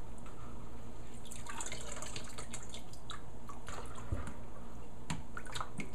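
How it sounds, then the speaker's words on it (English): Cold water drains out of a bowl of blanched sugar peas in a home kitchen, making a steady splashing trickle with scattered drips. It stays continuous and close for the whole stretch. "I'm just going to drain them out and put them in a bag."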